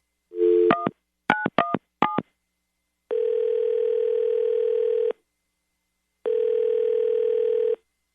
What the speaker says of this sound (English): I'm going to dial him right now